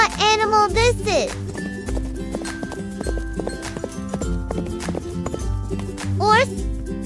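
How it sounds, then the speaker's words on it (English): A horse neighs and whinnies while hooves clip-clop steadily, with background music and a voice over the top. "Horse."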